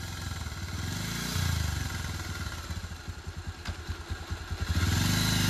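A motorcycle ridden through a village runs steadily, with a rough, pulsing engine note that dips and surges as the gears change, close by and without talk.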